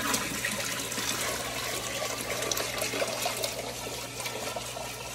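Aquarium air bubbler running in a storage tank holding a sick koi, giving a steady, continuous close-up bubbling and watery fizz with a low hum underneath, alone with no talk.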